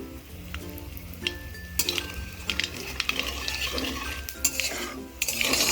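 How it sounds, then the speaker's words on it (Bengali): Black and white mustard seeds crackle and pop in hot oil for a fish curry, giving quick irregular snaps over a soft sizzle, with a few small clinks of utensils and no voices. "দেখুন সর্ষেগুলো ফাটতে আরম্ভ করে দিয়েছে।"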